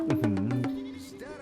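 A goat stuck on a roof in an airport renovation video game gives a quick run of wavering bleats, then one more a moment later, close and clear.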